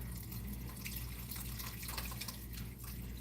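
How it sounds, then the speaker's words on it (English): Water trickles and drips steadily into a pot of boiling rosemary, a continuous close pour over a low simmering rumble with no talking. "I think I should add a little more water to that."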